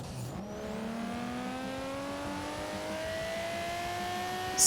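A Nissan R33 GTR LM engine in Forza Horizon 3 winds steadily upward in pitch, holding a loud, continuous rev that climbs toward its high redline with no talk over it.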